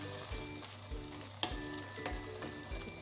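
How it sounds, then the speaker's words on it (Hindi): Frying dal stirred after red chili powder and salt are mixed in, a steady close sizzle with rhythmic spoon scrapes and a few sharp clinks against the pan, quiet overall with faint background music and no talk. "अब इनको हम अच्छे से मिक्स कर देंगे।"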